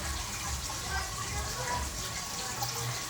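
Water runs steadily from a small decorative tap in a Gauri festival display, a continuous close splashing flow with faint background voices.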